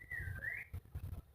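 A person whistles a short, clear rising-and-falling tune at moderate volume, with soft low thumps and background noise underneath.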